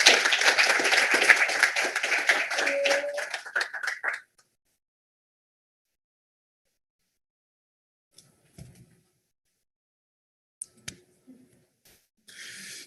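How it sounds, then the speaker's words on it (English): Audience members at a culinary graduation ceremony clap for a graduate, a close burst of applause that stops abruptly after about four seconds, followed by near silence with a few faint taps. "Can we give him one more round of applause?"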